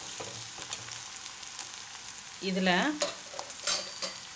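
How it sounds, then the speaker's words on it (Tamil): Onions sauté in a pan for tomato curry with a soft, constant sizzle and repeated scraping stirs, one louder burst of spatula scraping midway, and a brief spoken word over the frying. "இப்போ பார்த்தீங்கன்னா தெரியும், வெங்காயம் நல்லா வதங்கிருச்சு."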